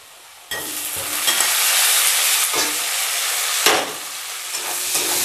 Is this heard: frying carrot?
yes